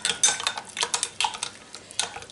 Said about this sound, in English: add boiling water and then keep stirring it as it's going in to stop it from being lumpy